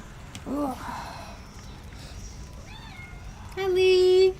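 Pet cat meowing near a streamer at home, two distinct meows with a quieter one between them, the last long and loud, with soft background noise.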